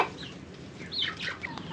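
Chickens cluck in a close, busy jumble of short calls, with a louder squawk near the end and no talking.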